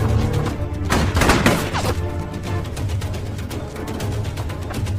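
Gunfire exchange in an action film about special forces soldiers, heard as dense rolling bursts and booms within a loud continuous soundtrack, with a sharper cluster of impacts near the middle.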